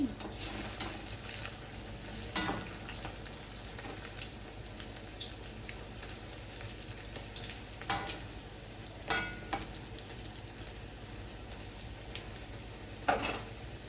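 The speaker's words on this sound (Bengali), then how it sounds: "বন্ধুরা, এই বড়াগুলো ভালো করে লাল লাল করে ভাজা হয়ে গেছে" Fish roe fritters frying in hot oil give a steady, soft sizzle throughout, broken by a few sharp clinks and scrapes of a utensil against the pan, with no talking.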